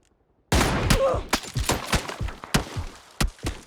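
Gunfire in a PUBG solo match: a rapid volley of sharp, loud shots in irregular bursts, cracking close by after a brief silent start.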